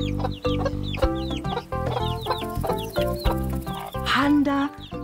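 Chicks cheep in quick, high repeated bursts alongside hen-like clucking, close and fairly loud, with a voice mixed in.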